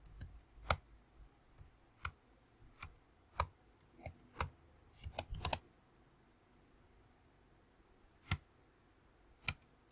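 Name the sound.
typing code on a computer keyboard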